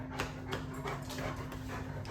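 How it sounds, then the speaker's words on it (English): A dog that has just come indoors pants in quick, rhythmic breaths close by, with a steady low hum behind and no speech. "Sorry, I was letting my dog come in."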